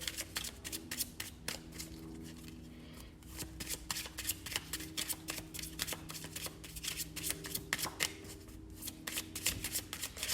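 Oracle cards being shuffled close up, a rapid series of crisp riffling flicks and soft rubs continuing steadily with no talking.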